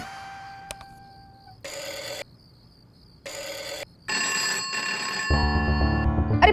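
A home landline telephone rings in repeated electronic bursts, each lasting about half a second with short silent gaps between them, heard indoors with other household tones and sounds coming in toward the end.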